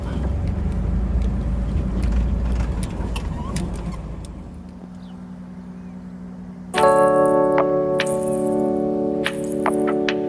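A small Caribian jeep drives along a canal-side track through rice fields, its engine droning steadily up close, easing off midway, then rising into a louder tonal whine as it pulls away again.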